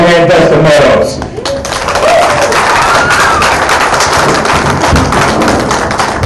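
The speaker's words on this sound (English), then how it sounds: "how about a big round of applause for my man Dustin Meadows" An audience at a comedy club bursts into loud, dense applause with whoops and cheers, sustained clapping filling the room after a brief introductory shout at the start.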